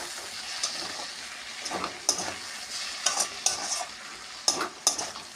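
Malabar spinach curry sizzles softly in a pan while a spoon stirs and scrapes through it in irregular close strokes, the frying hiss quiet underneath.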